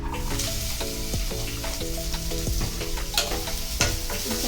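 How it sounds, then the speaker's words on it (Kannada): Onions frying in a pan for a prawn and mushroom sukka, with steady loud sizzling, scattered stir clicks and a constant low hum throughout, no voices. "ಸ್ವಲ್ಪ ಫ್ರೈ ಮಾಡ್ಕೊಳ್ಬೇಕು"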